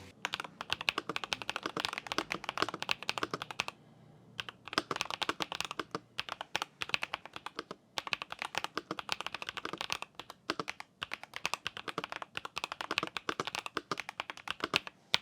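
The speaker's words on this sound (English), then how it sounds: "for the just out of the box mechanical keyboard with tactile mechanical switches, it's for sure good sound" Rapid, continuous clacking of keys on an RK Royal Kludge S98 mechanical keyboard with tactile switches, close and crisp, with a few brief pauses between bursts of typing.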